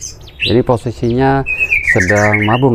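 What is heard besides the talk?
white-rumped shama (murai batu) singing in cage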